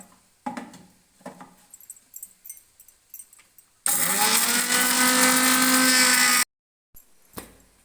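A kitchen mixer grinder whirs loudly and steadily for a few seconds, grinding chillies and coriander into powder, after scattered clicks and handling noises, then stops abruptly with a brief knock afterward.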